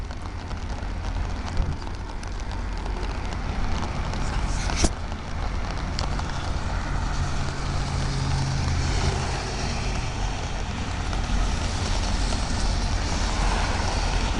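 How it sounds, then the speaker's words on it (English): A Loram rail grinder working along railroad track at Conover, North Carolina, gives a steady, loud, broadband grinding roar with heavy low rumble that holds for the whole stretch. A brief sharp crack cuts through near the middle. "It grinds the rails. A rail grinder."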